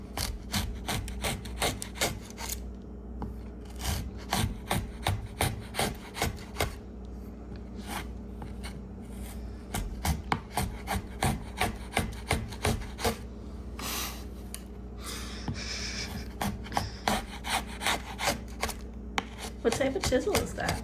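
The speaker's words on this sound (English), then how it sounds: "What type of chisel is that?" A cheap Harbor Freight chisel carves and scrapes the wooden back of an acoustic guitar being built, giving a close, steady run of short rasping strokes with brief pauses and a voice speaking now and then.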